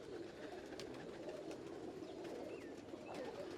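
Pigeons of fancy breeds kept for sale coo softly in a loft, low rolling calls repeating over a steady background hum, with a few faint chirps and no talk.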